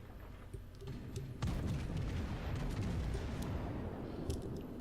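Guns of a French battleship in World of Warships: a heavy low boom near the 1.5-second mark that keeps rumbling, with fainter thuds before it, all fairly quiet.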